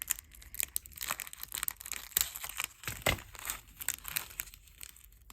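Plastic bag holding Miyuki 3mm matte black AB cube beads being handled and cut open, with dense crinkling and rustling throughout and a few sharper snips, close and moderately quiet with no talking.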